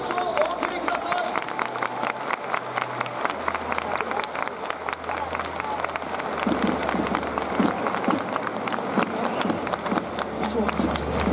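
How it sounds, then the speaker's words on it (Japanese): A baseball stadium crowd claps and cheers for Maru in a sustained, even wash of applause, with a low steady hum underneath and a public address voice speaking over it. "丸選手に今一度盛大な拍手をお送りください"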